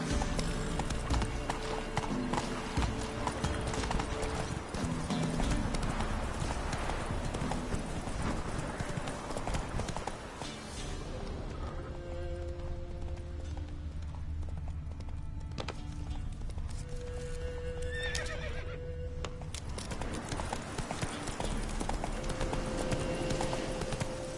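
The horse Roach in a video game, hooves clip-clopping in a fast, steady galloping rhythm with an occasional whinny, loud and close, later easing to a slower gait, with a faint voice at times.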